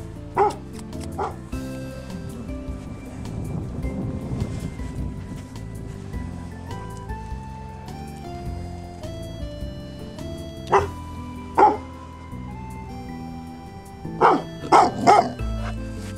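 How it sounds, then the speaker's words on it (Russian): A Bouvier des Flandres dog barks in scattered short bursts, a few single barks early and then a quick cluster near the end, close and clear over a low steady background. "Добрый пес, добрый, добрый."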